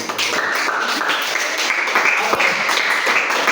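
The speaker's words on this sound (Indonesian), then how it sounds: "Tepuk tangan dulu sekali lagi" Students in a classroom give a round of applause, a fairly loud burst of mixed clapping that carries on steadily, with some voices faintly under it.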